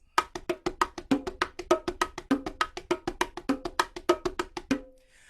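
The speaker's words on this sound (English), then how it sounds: "that is a very, very common Cuban groove or a Cuban marcha on bongo" Fast, crisp hand drumming on bongos plays a Cuban marcha groove, an even, rapid repeating pattern of sharp slaps and tones for about five seconds, then stops and rings out.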